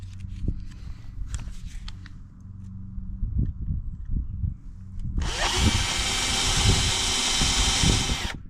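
A power drill runs loud and steady for several seconds, biting into metal during Nissan 300ZX brake work in a garage, after some quieter clattering of tools and footsteps.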